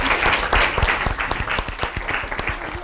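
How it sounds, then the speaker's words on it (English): Round of applause from an audience at a campus talk, steady clapping that starts full and thins slightly toward the end, with individual claps standing out. "Here, a round of applause."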